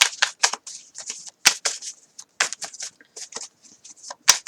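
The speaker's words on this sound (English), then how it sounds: "I like these because they're easy to shuffle. They're very smooth." A smooth, wide deck of oracle cards being shuffled up close, a rapid run of crisp, papery riffles and flicks in quick bursts with short pauses between them, no voices.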